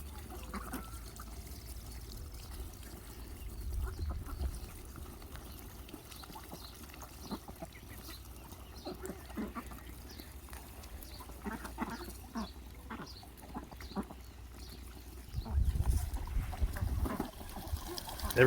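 Ducks at a low-cost small backyard pond, soft scattered quacks and dabbling over a constant trickle of pouring water, fairly faint and steady with a few louder splashy moments near the end.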